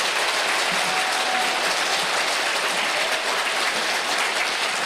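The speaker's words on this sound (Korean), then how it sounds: "뜨거운 박수 보내주시기 바랍니다" Warm applause from a crowd at a residents' briefing on a redevelopment construction contract, steady and dense throughout without a break.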